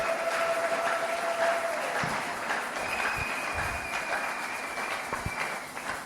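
A church congregation applauding to acclaim the Lord, a steady dense wash of clapping hands that fills the room without pause, with a few sharper claps standing out near the end.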